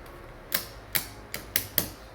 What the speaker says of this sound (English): I'm going to take the lever and start ratcheting.